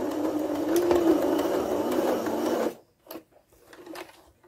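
A sewing machine runs steadily for several seconds while back stitching a fabric face covering, then stops, leaving a few soft clicks and faint handling noises.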